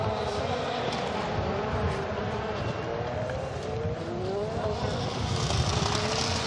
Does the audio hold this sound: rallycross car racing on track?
yes